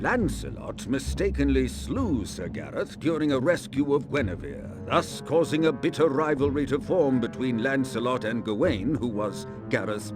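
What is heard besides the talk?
No everyday noises stand out.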